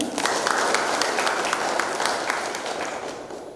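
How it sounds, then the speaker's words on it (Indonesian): An audience at a skin-care beauty training event in Indonesia breaks into thick, continuous applause, loud and steady, fading slightly toward the end. "Boleh beri tepuk tangan Bapak Ibu."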